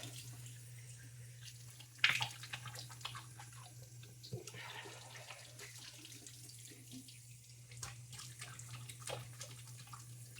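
Warm tap water runs into a sink during face washing, a steady, fairly quiet stream with splashes and handling noises as hands move through it.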